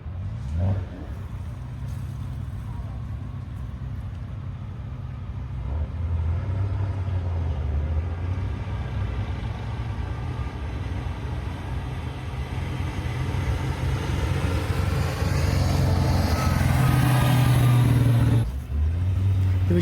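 A replica 1934 Lagonda M45 with a Meadows engine, a pre-war Le Mans racing car, idles with a deep rumble, then revs up in rising surges and drops back, loud and close.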